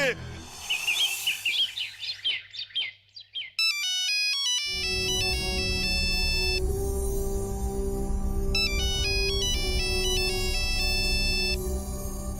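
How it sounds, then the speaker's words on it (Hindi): A telephone ringtone in a Hindi TV drama rings loudly and steadily as a repeating electronic melody, preceded by a brief chirpy sound and a short pause. "कब से फोन बज रहा है, सुनाई नहीं देता?"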